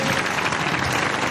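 A live studio audience at a stand-up comedy show applauds. The clapping is steady, dense and full, and it holds at one level the whole time.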